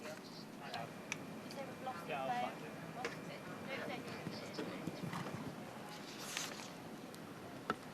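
Horse hooves thud and clop across the arena during a Grand Prix show jumping round at the Liverpool International Horse Show, faint and irregular beneath a commentator's continuous talk, with an occasional sharper knock.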